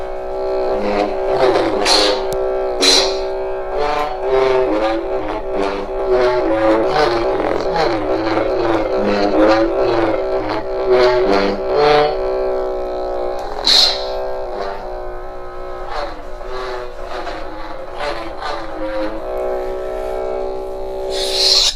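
Humming electronic lightsaber swooshes from a Madcow Shoto soundfont rise and fall in quick, repeated swings over a steady buzzing drone, loud and continuous with no talking.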